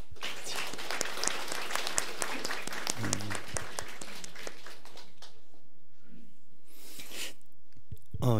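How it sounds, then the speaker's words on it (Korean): A church congregation claps during a sermon, a busy patter of hands that thins out after a few seconds, with faint voices and a brief murmur beneath. "참 수고 많이 하셨는데 박수를 한번."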